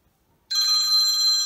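A telephone bell starts ringing abruptly after a brief quiet moment, a bright sustained electronic trill that continues loud and close with no talking over it.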